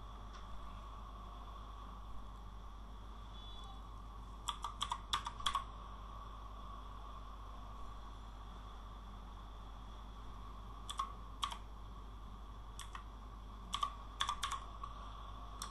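Bursts of quick key clicks from a computer keyboard as a website name is typed, coming in short clusters separated by pauses, over a steady low hum in a quiet room with no talking.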